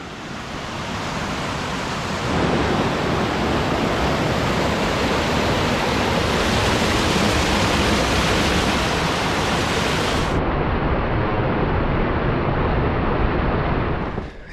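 Ptarmigan Creek in the mountains rushes steadily and loudly as a broad, continuous roar of flowing water, close by and alone, with no voices.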